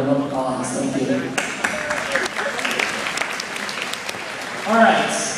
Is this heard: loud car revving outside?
no